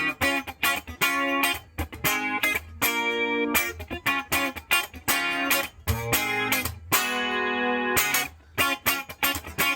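Distorted electric guitar chords strummed in choppy bursts with a swirling, sweeping flanger effect, loud and close, no voices.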